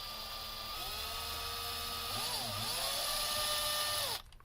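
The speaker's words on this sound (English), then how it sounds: "I'm going to drill it out now" A power drill bores a hole in a Marlin Sidewinder guitar, whining at a steady high pitch, dipping and rising briefly as it bites, then cutting off abruptly, leaving quiet room tone.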